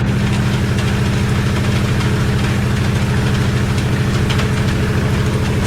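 A light aircraft engine held at high RPM in a flight simulator game, a steady loud droning hum with a constant rapid pulsing throb and no change in level throughout.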